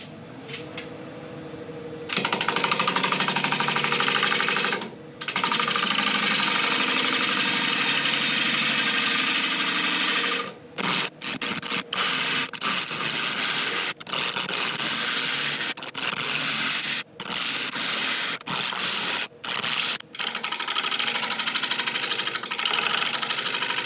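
Wood lathe turning an uncut burl, a steady broadband whir and rasping cut that runs continuously with brief dropouts as the tool lifts, fairly close and alone with no talk.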